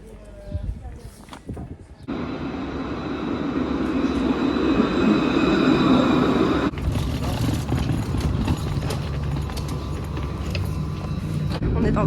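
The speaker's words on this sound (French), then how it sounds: "On est dans le tram là." Inside a moving tram: a steady rumbling rolling noise with clatter and rattles that shifts partway through, with brief sounds and voices near the start.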